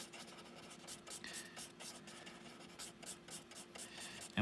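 Paper blending stump rubbing graphite on paper while shading a sphere drawing, a series of soft repeated scratchy strokes, close and faint, with a brief louder bump at the end.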